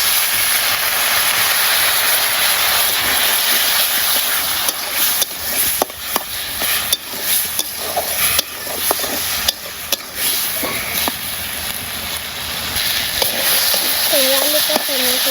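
Water left from soaking cut potatoes hits a hot pan in a village kitchen, giving a steady, loud broadband sizzling hiss throughout with scattered crackles and a faint voice near the end.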